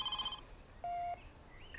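A telephone rings in an indoor scene from a TV comedy-drama, with a short, steady electronic ring tone that sounds clearly over quiet room background.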